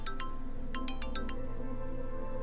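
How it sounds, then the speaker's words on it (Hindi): Incoming-call phone ringtone chiming as a quick run of bright, clinking electronic tones: two notes, a pause, then five more in fast succession, fairly faint over a low steady room hum with no talking. "मीरा मैम का फोन"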